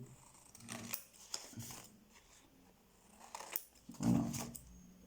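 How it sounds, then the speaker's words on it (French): Scissors snip wrapping paper in a few quiet cuts, with light rustling and handling noises in between; no talking. "Avec mes ciseaux"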